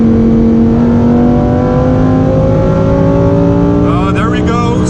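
A Lamborghini Huracan Performante revving hard and loud toward 9,000 RPM, its steady climbing engine note heard from inside the car, then breaking off with a quick gear shift near the end.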